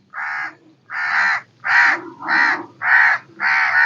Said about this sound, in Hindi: हमारे कौवा महाराज भी हैं